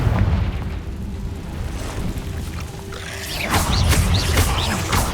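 Spell blasts from the Hogwarts Legacy game, including the Confringo explosion spell, set off booming bursts; a rumbling boom near the start and a louder run of crackling, popping explosions toward the end over a noisy game backdrop.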